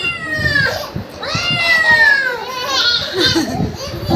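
A cat meows in drawn-out, rising and falling cries among children playing and chattering indoors at home, with several meows spread across the clip and close to the listener.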